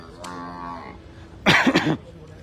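A cow moos once, fairly near, followed by a burst of noisy commotion at a cattle market in Sirajganj, Bangladesh.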